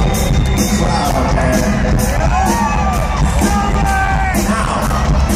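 Crowd at a live rock concert at Mohegan Sun cheering, whooping and yelling continuously, dense and loud throughout, with scattered voices rising above the roar.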